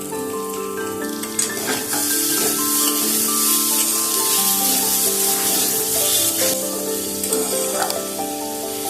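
Vegetables frying in a pan for broken wheat pulao, a loud sustained sizzle and crackle close up with occasional stirring scrapes, no talking.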